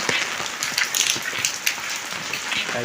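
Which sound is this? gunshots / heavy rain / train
heavy rain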